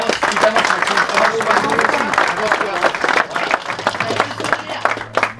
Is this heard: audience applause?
yes